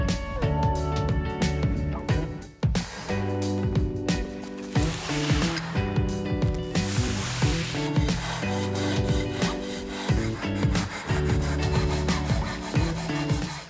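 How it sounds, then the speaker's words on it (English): Sandpaper rubs back and forth over tile edges in quick, rhythmic scraping strokes with short pauses, close and fairly loud, while background music plays throughout. "So let's get to sanding."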